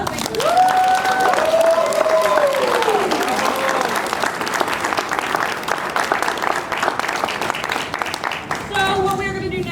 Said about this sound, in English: So I just want to give these kids another big round of applause.